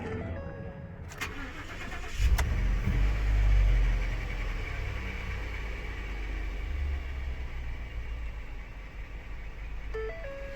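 A Ford F-150 pickup with frame damage runs with a low, steady engine rumble that swells briefly near the start before settling to an even idle, with a few sharp clicks and faint tones at the edges and no talk.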